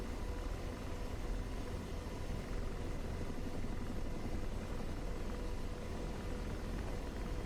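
A Chinook helicopter overflies an enemy position in the DCS flight simulator, a steady, dense rotor and engine roar holding at an even level throughout.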